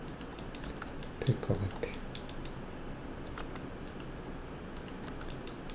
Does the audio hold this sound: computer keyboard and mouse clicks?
yes